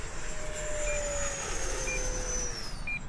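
A 3D-printed sport RC jet with a 90mm electric ducted fan making a slow-roll pass at full throttle, a steady high-pitched turbine-like whine that falls in pitch as it passes by at a moderate distance, heard alone.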